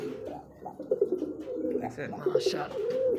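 Pigeons cooing repeatedly at a market stall selling birds, soft throaty calls close by amid background chatter and people talking.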